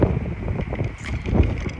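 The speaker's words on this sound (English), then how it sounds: "It is very, very windy here today, if you can't tell." Wind buffets a microphone in low, rumbling gusts that swell and fade, strongest near the start and again toward the end. No voices.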